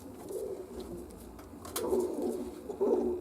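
Soft, low cooing from young pigeons rises and falls in a few separate bursts over steady background noise, fairly close by, with no talking.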